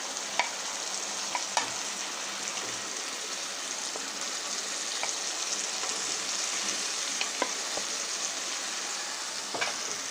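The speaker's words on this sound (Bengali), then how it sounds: "মাংস দিয়ে মাংসের সাথে মশলাগুলোকে খুব ভালোভাবে মাখিয়ে নেব।" Chicken pieces fry in a pan coated with spice masala, giving a steady close sizzle with occasional scraping clicks from stirring and no talk.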